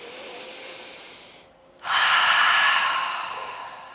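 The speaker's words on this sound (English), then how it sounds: "Beautiful, cleansing breath." A deep cleansing breath during a yoga session: a long steady inhale through the nose, a brief pause, then a strong, full exhale that slowly fades, close and alone with no talk.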